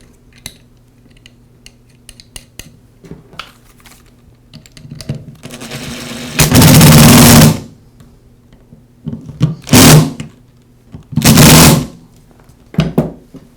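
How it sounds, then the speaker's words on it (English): A power screwdriver drives screws into the motor housing of a Porter Cable router during brush holder repair, giving three loud whirring bursts of a couple of seconds each, close by, with faint handling clicks in between. "I'll secure the upper and lower halves of the motor housing with the screws"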